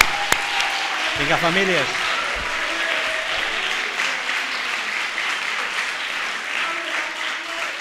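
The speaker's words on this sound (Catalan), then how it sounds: "Vinga, va, som-hi, un fort aplaudiment." Families at a high school graduation ceremony in a hall burst into broad, sustained applause that runs for several seconds, while a presenter's amplified voice speaks briefly over the start of the clapping.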